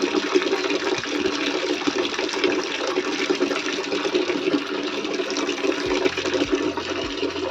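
A tap runs steadily with a broad, continuous rush of water while a dog drinks beneath it, loud and close throughout with no speech.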